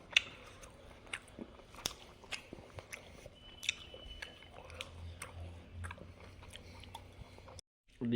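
Someone eats a simple winter breakfast of hot rice with fried fish and greens, giving close, quiet chewing and soft crunching bites at an irregular pace, with small scrapes between mouthfuls.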